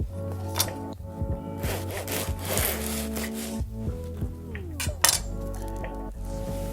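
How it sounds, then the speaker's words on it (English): Bread knife sawing through a loaf of soft, moist bread with an open crumb, close scraping strokes and crust crackle with a few clinks against a board over a constant low hum, no talking. "If we cut it now, you will see it is a nice open texture and it is really moist inside."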